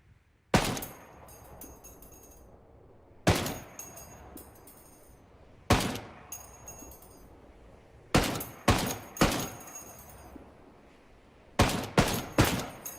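Knight's Armament SR-24 semi-automatic sniper rifle in 7.62x51mm firing outdoors: about ten loud, sharp single shots at uneven intervals, some in quick pairs, each followed by a short ringing decay.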